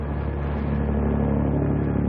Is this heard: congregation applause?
no